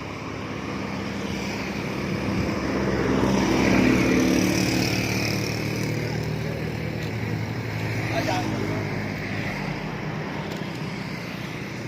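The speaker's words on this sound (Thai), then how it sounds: "เรืออีกลำกำลังจะออกสู่ทะเลอ่าวไทยนะครับ" A motorboat runs on a river mouth heading out toward the Gulf of Thailand, its engine droning steadily at moderate distance, swelling slightly as it passes, with someone talking over it.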